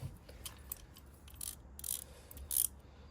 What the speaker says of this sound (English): Just make sure my ratchet is the correct way, be helpful